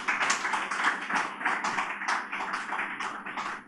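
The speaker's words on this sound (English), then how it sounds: "And a round of applause for our panelists," Audience clapping for panelists at a business technology panel event, a dense, steady patter of many hands held at a fairly even level throughout, with no talking.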